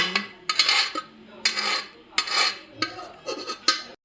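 Roasted semolina scraped out of a pan onto a plate, a run of about eight quick, gritty scraping strokes, close and fairly loud, with no talking.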